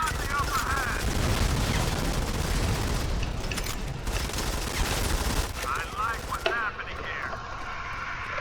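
Gunfire rattles in the Modern Combat 5 team battle game, with bursts of rapid shots and bangs over a busy game soundtrack, then a quieter stretch with electronic chirps; a player talks at points.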